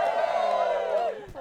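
Wedding guests at Roscrea Homestead cheer and whoop together, a short loud burst of voices that cuts off after about a second.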